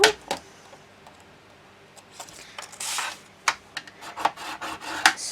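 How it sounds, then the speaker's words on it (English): Paper being scored at half-inch marks with a scoreboard tool for an altered album cover, heard as a string of short scraping strokes and rubs, some sharp and close, with quiet gaps between them. "we're going to score these in half, so you score them at the half inch mark"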